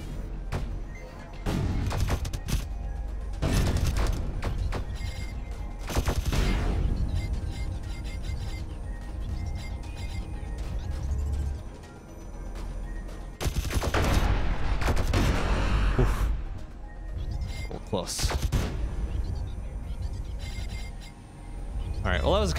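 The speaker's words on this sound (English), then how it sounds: "let's get the concussion missiles out" Repeated bursts of concussion missile fire in a space shooter game, loud clustered blasts and crashing impacts coming in waves with short lulls between, dense and close throughout.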